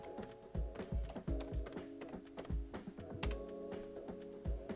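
Computer keyboard typing, a quick run of close, crisp clicking keystrokes in an irregular rhythm over a faint steady hum.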